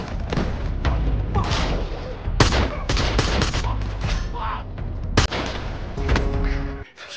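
A film scene is filled with loud, close gunfire, a rapid volley of shots and booming blasts in quick succession, while a voice talks over it.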